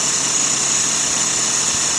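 A small Sirius steam engine driving a generator runs at about 40 psi, a steady close, high-pitched mechanical whine and hum that holds unchanged throughout.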